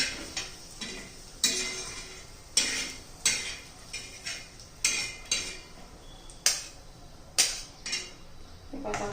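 Coconut, peanuts, sesame seeds and garlic pounded in a mortar and pestle for chutney, with repeated sharp knocks at an uneven rhythm close up.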